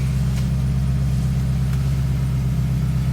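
A 2013 ex-police car's engine runs steadily at close range, a low continuous drone and hum with no talk over it.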